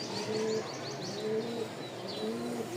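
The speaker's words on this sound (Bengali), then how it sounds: "একজোড়া লাল সুন্দরী খুব সুন্দর একটা মার্শাল্লাহ কবুতর জোড়াটা" A pair of Lal Sundori pigeons, a male and a female, coo in soft, repeated rolling calls nearby, with a few light chirps in between and no voices.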